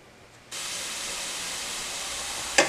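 Onions sizzle in a hot pan for enchiladas, a steady broadband hiss that starts abruptly and holds evenly, with a brief sharper crackle near the end.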